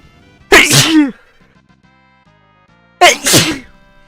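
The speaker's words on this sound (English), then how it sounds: "I'm gonna sneeze in a second." Two loud, close sneezes a couple of seconds apart, separated by near silence.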